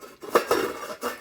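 A lid set over a bowl of murukku dough, a few soft close clinks and a short scraping rattle of metal on the rim, with no talking.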